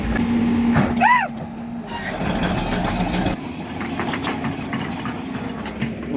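Low steady diesel rumble of a Poclain excavator working on a farm, continuous throughout, with a brief tonal squeal early on and a drop in level partway through.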